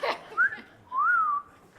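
A person whistles two short notes, a quick rising chirp followed by a longer sliding tone, nearby over faint background noise after a brief burst of sound.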